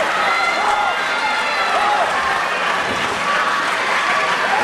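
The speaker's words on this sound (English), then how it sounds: "there's a lot of bodies in here yelling, jumping up and down, screaming and hollering" A packed wrestling crowd yells, screams and cheers for Dreamer, a dense, steady roar that fills the whole moment with no break.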